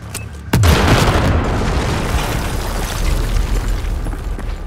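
A loud, close explosion in Battlefield 4 bursts with a sharp onset, then rolls into a long, heavy rumbling roar that slowly fades.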